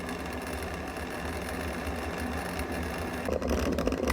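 A tea steamer machine runs with a steady, fairly loud mechanical whirr and hum, getting slightly louder and rougher near the end, with no talking.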